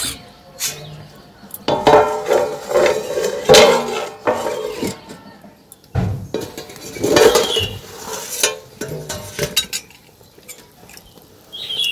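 Metal pot and lid clattering and clinking in a kitchen while cooking mango rasgulla, several sharp knocks and scrapes in irregular bursts, close and fairly loud, with occasional quiet talk.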